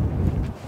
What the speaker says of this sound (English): The winds are blowing southeasterly